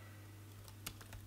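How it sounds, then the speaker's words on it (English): Keys clatter in a quick, light burst of clicks on a Sony Vaio Fit 14A laptop keyboard, heard close and faint over a steady low hum. "If you just give you a quick demo here of the typing"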